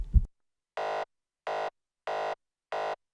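A psytrance grid synth patch built in Serum plays four identical buzzy, bright stabs at an even pulse, each cut off cleanly into silence.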